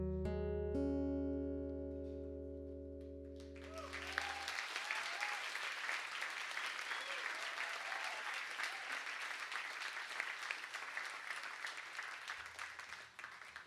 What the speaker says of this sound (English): You guys can keep cheering